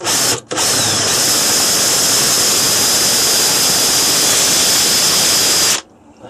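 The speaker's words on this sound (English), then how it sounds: "I'm just going to drill a pilot hole" A power drill bores a pilot hole into a synthetic air rifle stock, a loud, close, continuous high whine that starts with a brief stutter and stops abruptly after about five seconds.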